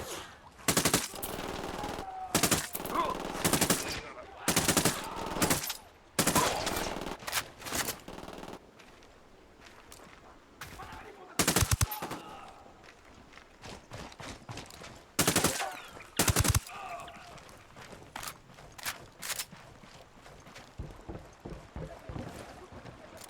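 Bursts of automatic gunfire in the shooter game Ghost Recon Wildlands come in repeated loud volleys with short gaps between them, and voices shout now and then through the fighting.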